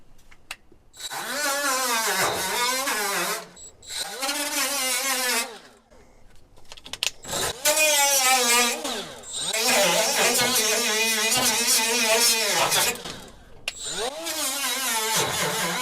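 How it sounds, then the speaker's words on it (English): Spot weld cutter biting into rusty sheet metal on a classic VW Kombi bus under restoration, several loud sustained whining cuts separated by short pauses, close up. "Got this spot weld cutter. Let's try it out, see how it works."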